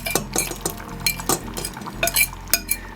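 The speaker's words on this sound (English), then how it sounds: "And we can stir through our tuna with a fork" A fork stirs through tuna in a bowl, making rapid, close clinks and scrapes against the dish in an uneven rhythm, with no voices.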